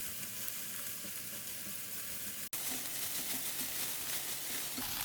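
Kimchi and ham fry in hot oil with a steady, close sizzle and busy crackling, broken once by a sharp click halfway through before the frying hiss resumes unchanged.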